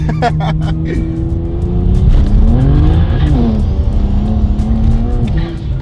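A tuned stage 3 BMW 335i engine revs hard and climbs in pitch through gears, loud and close, with faint voices underneath.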